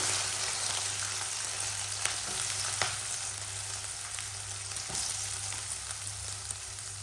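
Green chillies and onion frying in hot spiced oil give a steady, close sizzle with a low hum beneath and a few sharp clicks of stirring, no talking.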